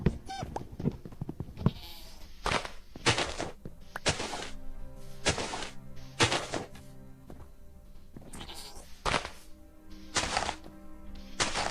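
Goats bleat in the Minecraft video game, several short nasal calls repeating every second or so, loud against a background of blocky game thuds and hits with no talking.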